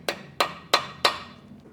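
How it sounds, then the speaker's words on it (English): Four sharp metallic hammer strikes on a screwdriver driven into a bolt during a BMW N54 engine rebuild, evenly spaced and close by, each ringing briefly before the next blow. "Maybe with screwdriver if I hammer it in."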